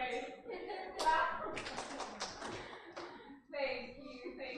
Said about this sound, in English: Clap. Three times. You have to do very fast.